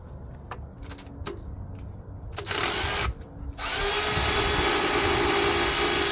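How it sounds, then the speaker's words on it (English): A power tool whirs in short bursts, then runs loud and steady for several seconds, close up, removing an alternator bolt on a Nissan Kicks. "I'm using this power tool."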